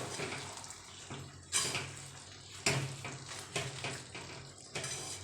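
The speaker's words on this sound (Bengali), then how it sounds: "গুড়টা দিয়ে কুলটা আমি খুব ভালোভাবে মিশিয়ে নেব" Jujube (kul) is stirred with jaggery in a pan, making repeated scraping and clattering strokes of a spoon against the metal over a faint, wet bubbling background.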